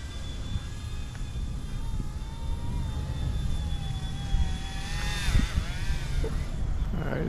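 Eachine E120 toy RC helicopter flying outdoors at full throttle, its small motor and rotor giving a steady high whine with shifting tones that bend and sweep as it passes, heard over continuous wind rumble at moderate distance.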